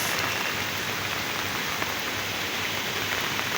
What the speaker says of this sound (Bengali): বৃষ্টির জন্য সাউন্ডটা সমস্যা করতেছে অনেক